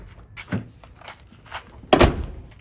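A Toyota Tacoma door fitted with a new metal replacement handle is worked, giving a few soft clicks and rattles and then a louder solid thunk near the end.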